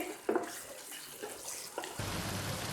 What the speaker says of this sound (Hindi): आधा कप पानी इसके अंदर ऐड कर रही हूँ आलूओं को गलाने के लिए।